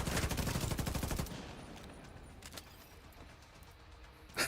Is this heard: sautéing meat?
no